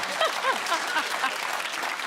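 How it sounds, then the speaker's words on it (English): A studio audience at a topical comedy panel show claps in a steady, dense burst of applause, moderately loud and unbroken throughout. "You're applauding this poor bloke."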